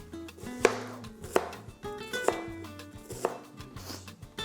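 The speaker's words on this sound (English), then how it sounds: "we chopped it on the cutting board" An onion is chopped on a cutting board with four or five distinct, evenly spaced knife thuds, close and clear.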